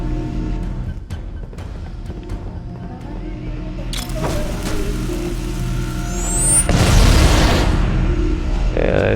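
Grenade blasts go off during a grenade jump in Halo CE, with a couple of booming explosions and rumbling impacts mixed with game effects; the last blast is the loudest and nearest.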